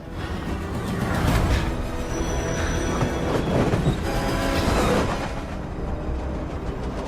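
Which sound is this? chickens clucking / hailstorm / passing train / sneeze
passing train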